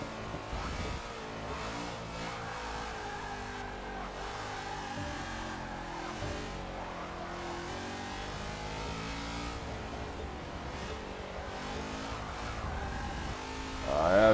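Race car engines in a racing video game drone and rev continuously, a layered mid-pitched roar with shifting pitch as cars accelerate and lift, steady in level and swelling slightly at the very end.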